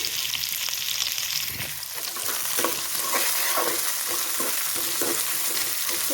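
Coarsely chopped onions and tomatoes fry in a pan for chilli potato, giving a continuous bright sizzle with small crackles and occasional soft stirring clatter. No one speaks.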